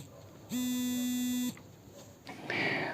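A phone buzzing with an incoming call, one loud steady electronic buzz tone lasting about a second in a quiet room, followed by faint rustling and a brief noisy shuffle.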